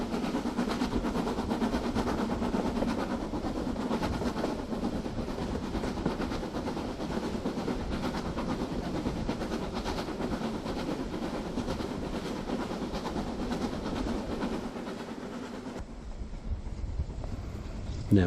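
Model locomotive 736 Excalibur, fitted with a wheels kit, a 1001 motor and 40 to 1 gears, runs with a steady whirring rumble and faint rail clatter that holds for about sixteen seconds before dropping away.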